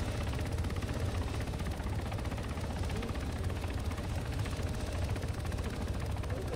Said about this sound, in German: Der eine Heli ist hinter uns auf dem Dach gelandet.